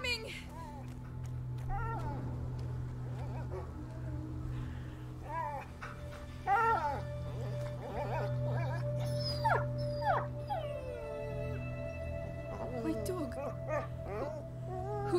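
A stressed dog whimpers and whines in a video game, thin high yelps and howl-like cries recurring over steady game hum while a player talks throughout.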